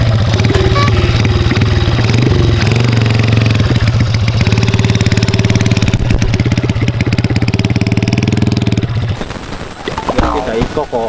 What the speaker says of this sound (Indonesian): Ieu motor udah dikakumahakeun nih legendaris ya ge.